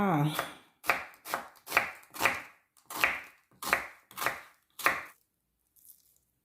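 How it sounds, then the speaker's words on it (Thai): A knife slices a halved onion lengthwise in a steady series of about nine firm strokes onto a cutting board, close up, then stops. "หอม ผ่า ครึ่งแล้วก็หั่นตาม ยาว"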